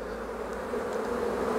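Honey bees hum from an opened hive during a disease inspection, a steady dense buzz close by, unbroken and even throughout.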